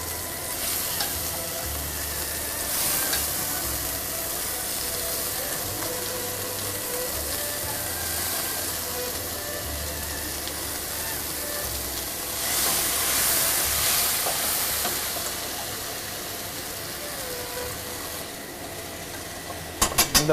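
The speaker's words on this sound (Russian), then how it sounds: "Потихоньку достаем удон. Это все выкладывается в сковородку?" Udon noodles frying in a skillet with tonkatsu and soy sauce, a steady broad sizzle and hiss throughout with occasional stirring scrapes, close and fairly loud with no talking.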